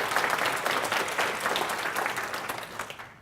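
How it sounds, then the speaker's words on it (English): Sustained, dense applause from a tech conference audience in New York welcoming a speaker, a loud steady wash of many hands clapping that tapers slightly toward the end. "Let's give a round of applause for Celia La."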